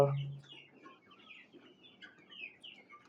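Desi chicks about forty days old cluck and peep softly in a series of short, scattered calls, faint and close, with no clear talking.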